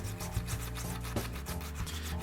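Coarse-grit sandpaper rubs back and forth over a plastic toy figure, quiet close scratchy strokes in a quick, even rhythm, with no voices.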